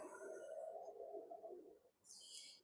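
A recorded bird call plays during a live tour of Bixby Marshland. The soft cooing notes are faint and distant, with a brief bright chirp near the end.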